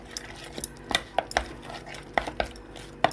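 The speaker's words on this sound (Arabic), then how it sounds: "اقلب كده كله في بعضه" Spoon stirs and clanks through food in a cooking pot with pomegranate molasses, giving a quick series of close metallic taps and scrapes at an irregular rhythm, with no talking.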